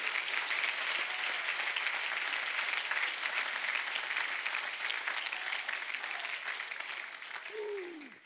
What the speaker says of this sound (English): Somebody clap your hands to the Lord here a second.